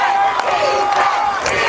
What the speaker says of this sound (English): The defense chant